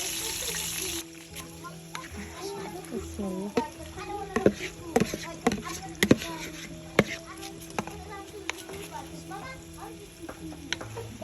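Fresh garden eggplant sliced into rounds, outdoors: a run of sharp knife chops cutting through the vegetable at an uneven pace, close and clear over a low steady background hum.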